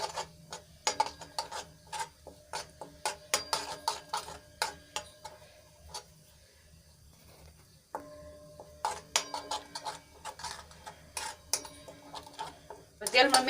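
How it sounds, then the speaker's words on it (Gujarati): A spoon scrapes and clinks against a kadai while red chili chutney is stirred into oil, with sharp metallic taps in irregular bursts, a brief pause midway, then more clattering. "અને સરસ રીતે તેલમાં મિક્સ કરી લેવાનું છે।"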